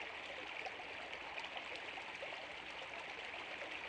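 A river flows steadily in a prehistoric landscape where an Ankylosaurus walks, a constant broadband rush of moving water that stays even and unbroken throughout.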